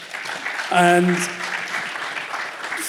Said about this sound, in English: Big applause for our panel.